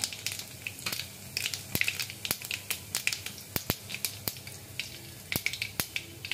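Cumin and onion sizzle in hot oil in a pan, with quiet steady frying and many sharp crackles and pops in an uneven rhythm, heard close up with no talking.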